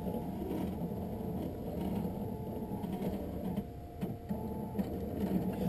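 A $30,000 lens edging machine cuts a prescription anti-glare lens for Ray-Ban glasses, giving a steady close mechanical whir and grinding hum with faint rattling that runs without a break.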